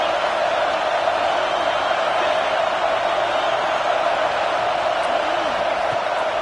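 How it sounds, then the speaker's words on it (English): A stadium crowd cheers with a steady, loud roar throughout a football video game, continuous and sustained without pause. "this crowd is turning it up a notch"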